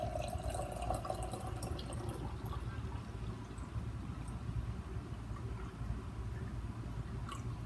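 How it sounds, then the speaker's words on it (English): Warm tap water is poured into a glass jar holding clear glue for a DIY mindfulness jar, giving a steady close-up trickle and splash of liquid that runs throughout without speech. "take your warm water from the tap and carefully pour that into your jar as well"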